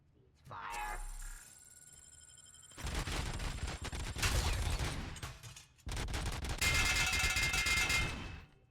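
Gunfire in RoboCop: Rogue City, loud sustained bursts in two stretches separated by a short lull, with metallic clangs and a brief tone at the start.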